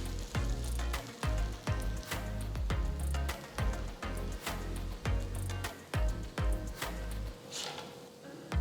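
Egg masala bread toast fries in butter on a hot tawa, giving a continuous close sizzle punctuated by sharp scraping and tapping clicks, with no voices.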